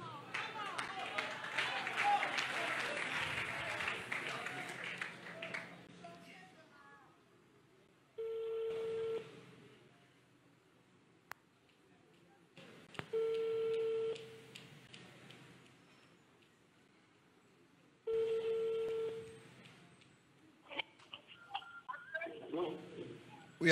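A telephone call rings out with three evenly spaced ringing tones, each separated by several seconds of quiet. People talk before the rings begin and again at the end.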